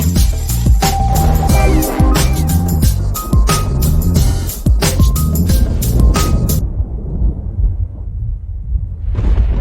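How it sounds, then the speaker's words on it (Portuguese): A JAC J3 car engine with a worn drive belt idler pulley bearing runs loud and close, its harsh drone full of rattling clicks and knocks before settling into a quieter, smoother hum near the end. "Estão ouvindo aí, ó, barulho na correia aqui, ó"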